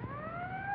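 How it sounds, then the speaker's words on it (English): An ambulance siren wailing with a rising tone, steady and moderately distant, heard briefly in a film scene. "There's the ambulance now."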